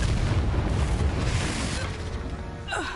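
Confringo spell blasts in the video game Hogwarts Legacy: a loud, sustained booming explosion rumble filling the whole moment, tailing off with a brief descending whoosh near the end.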